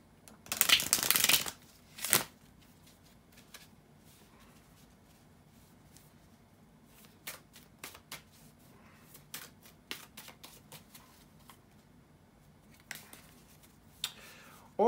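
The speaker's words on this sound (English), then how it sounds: "give me just a couple of seconds here to shuffle the tarot cards" A quick riffle of tarot cards being shuffled, followed by soft scattered taps and slides of cards handled close by in a quiet room.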